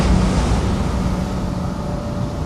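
Sea waves surging off the coast as a southerly storm rises, a loud, constant broadband roar of surf and wind with no pauses and no voices.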